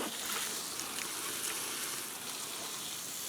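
Water pouring steadily onto the contents of a new compost bin, a continuous broadband splashing and trickling wash that stays even and fairly close throughout, with no talk.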